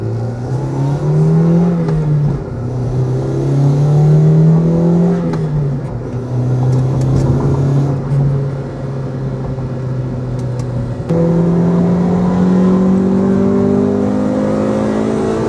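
Honda Civic EK9 engine pulling hard while driving, its loud tone rising through the gears in repeated sweeping climbs, with brief dips at each shift, close and continuous with a faint cabin hum underneath.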